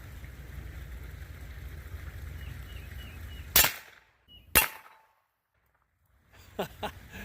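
Two sharp, isolated reports about a second apart from a firearm fitted with a Dead Air Wolfman suppressor in its short configuration. A steady outdoor background hiss precedes them, then near silence, with faint scattered noise returning toward the end.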